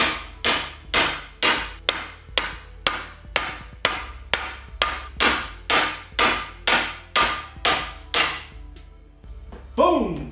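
Heavy hammer blows strike metal in a steady rhythm, about fifteen sharp whacks in a row driving out a car suspension bushing, close and loud, ending with a brief clatter.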